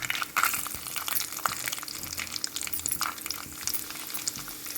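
Cashews frying in a pan for Kerala pumpkin payasam, a soft, fairly quiet bubbling sizzle with light stirring and a few scattered pops, no voices.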